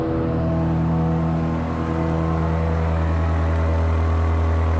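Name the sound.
SUV engine revving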